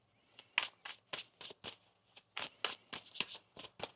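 Tarot cards are shuffled by hand in a quick run of about a dozen crisp riffling bursts, close and distinct, separated by short pauses.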